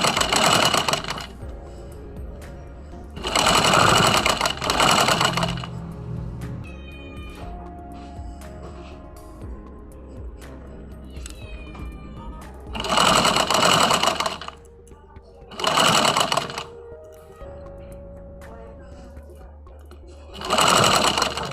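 Sewing machine stitching a sleeve onto a garment body, running in loud bursts of rapid whirring stitches separated by quieter pauses with faint mechanical clicks and some background sounds.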